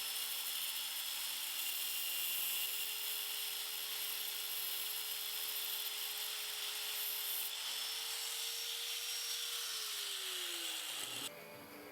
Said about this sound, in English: Now I'm cutting the hand throttle end of the throttle cable to length